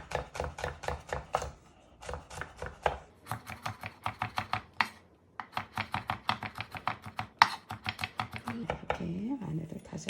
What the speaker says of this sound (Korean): 이렇게 마늘을 다져가지고